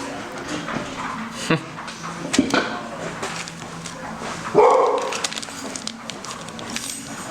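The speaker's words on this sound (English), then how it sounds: "We have the least intimidating guard dog in the entire world on duty today." A dog barks at a UPS delivery person in the middle of a fly-tying session: a burst of sharp barking a few seconds in, mixed with clattering and faint talk in the room.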